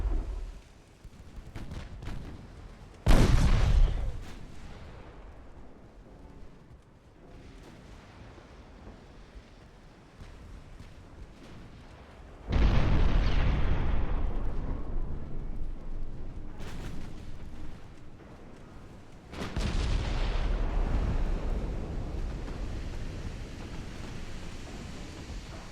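Naval gunfire in Ultimate Admiral: Dreadnoughts, an 1893 Ottoman campaign battle with warships trading salvos: three heavy booming salvos, each a sharp loud blast followed by a long rumbling decay over low background rumble.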